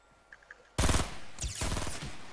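Fortnite Battle Royale gunfire: a sudden loud burst of rapid automatic shots erupts after a quiet moment, followed by a second sustained volley, close and dense with no talk over it.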